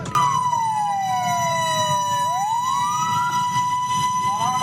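Fire engine siren from a Depok fire brigade truck stuck in heavy traffic on Margonda Raya, a loud continuous wail sweeping down and back up, close by over a low rumble of road traffic.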